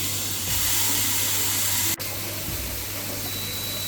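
Pork loin steaks sizzle on an electric grill, a steady, close broadband hiss that stays even throughout with no voices.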